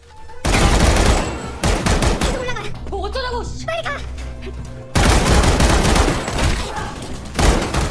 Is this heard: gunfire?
yes